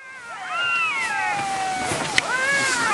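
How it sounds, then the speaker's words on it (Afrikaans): Black-backed jackals howl at night near Salpeterkop, several long wavering cries overlapping and rising and falling at moderate distance over a steady background hiss. "Die son het skaars gesak agter Salpeterkop of die rooi jakkalse het begin huil."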